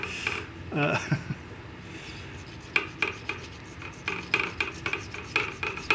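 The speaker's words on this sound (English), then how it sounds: "So now I'm just filing away." A wooden arrow shaft is filed by hand, giving close, rhythmic rasping strokes in quick repeated bursts, with softer rubbing and handling noises beforehand.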